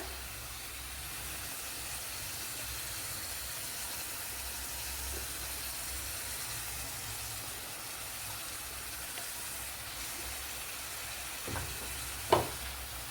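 Ground masala is added to a pan of frying Bengali-style egg podi mas, which sizzles steadily and close with a continuous hiss, while a couple of faint clinks of stirring come near the end.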